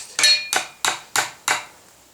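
A hammer taps a forged handle onto a blacksmith's brush: four sharp, ringing metallic strikes, evenly spaced and close, each decaying quickly before the next.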